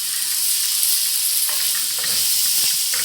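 Chopped tomatoes sizzle and hiss steadily in a hot pan for chicken kabsa, with a few soft stirring scrapes over the constant frying noise and no voices.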